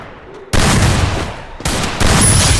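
Dense automatic gunfire from the mobile shooter game Free Fire, loud and close, in continuous rattling bursts that cut in abruptly, break briefly, then resume with fresh volleys.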